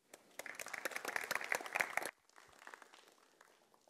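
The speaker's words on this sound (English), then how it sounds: "Otherwise, I suggest we do one more applause." Audience applause at a small talk event, a couple of seconds of lively, close clapping that suddenly drops to quieter, thinning claps before fading out.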